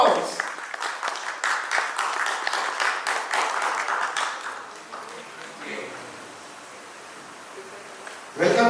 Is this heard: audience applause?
yes